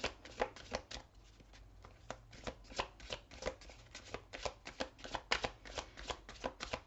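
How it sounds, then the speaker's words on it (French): A deck of Symbolon oracle cards is shuffled by hand, giving a steady run of quick papery riffles and flicks, quiet and close, with no speech. "Je vais prendre une carte de l'oracle Symbolon."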